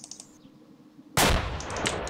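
Gunfire in the military shooter game ArmA: after a quiet stretch with faint clicks, one sudden loud shot bursts in and leaves a long, noisy rumbling echo.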